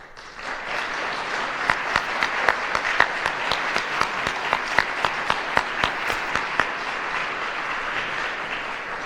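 Steady, dense audience applause fills a hall during a city's State of the City address, with a few louder individual claps standing out near the middle before the crowd clapping carries on evenly to the end.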